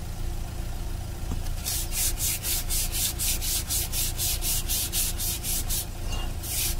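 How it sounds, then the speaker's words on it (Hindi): Polish paper rubbed over the rear brake liner of a Hyundai i10 during servicing, a close, steady series of about a dozen rhythmic scraping strokes, each a short hissing swipe, after a quieter start. "इसके लिए हम खाली पॉलिश पेपर मार कर इसे क्लीन कर और ऐसे फिट कर देंगे"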